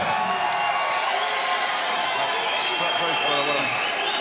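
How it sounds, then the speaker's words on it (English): A crowd at a BAMMA 29 MMA event cheers and applauds the new heavyweight champion, Brett McDermott, in a dense, steady roar of clapping and whoops that fills the arena. "I think everyone in here will join me in cheering you"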